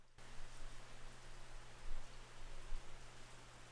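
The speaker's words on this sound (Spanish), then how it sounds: "¿Escuchas la lluvia de fondo?" Rain falls steadily in the background, a soft, even hiss of drops that stays faint and constant throughout, with no one speaking.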